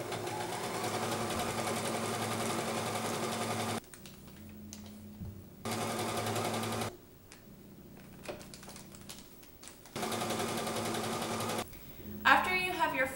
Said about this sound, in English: top stitch your packets onto your front and back panels